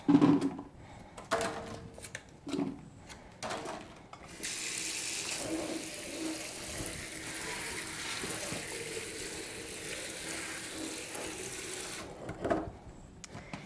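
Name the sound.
rinsing blueberries under running tap water in sink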